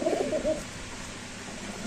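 Pigeons at a market coo in a brief soft burst at the start, a couple of low throaty pulses close by, fading into quiet background hiss.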